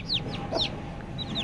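Newly hatched home-bred chicks near a hen cheep in sharp, high descending peeps, several in quick succession, close and clear over a soft background murmur.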